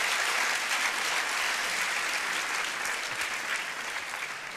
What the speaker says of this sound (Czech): Toto si v moje misi zaslouží potlesk.